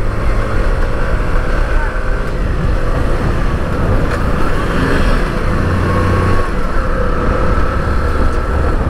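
A 2022 Hero Passion Xtec motorcycle rides through city traffic with a continuous engine drone and heavy wind rumble, loud and steady throughout.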